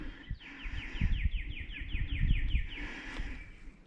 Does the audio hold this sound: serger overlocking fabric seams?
no